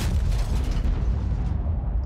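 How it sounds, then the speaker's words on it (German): Tank gun shot from a Type 5 Ka-Ri in World of Tanks, a loud, heavy booming blast with a rumbling tail that fades over about two seconds, alone with no talking. "da ist der Schuss vorbeigeflogen"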